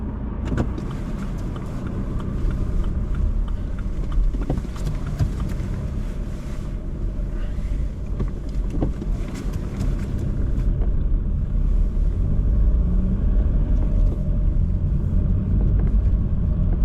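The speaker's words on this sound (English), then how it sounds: "Just wait for traffic to go through," Road traffic passes a waiting car on a street, a continuous loud rumble of engines and tyres with wind buffeting the microphone, no voices.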